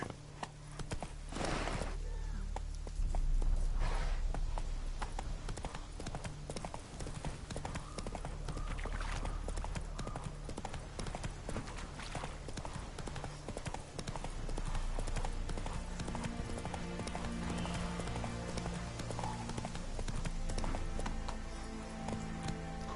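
In The Witcher 3, a horse gallops with rapid, rhythmic hoofbeats that go on through the whole stretch, moderately close and fairly quiet, with faint game ambience underneath.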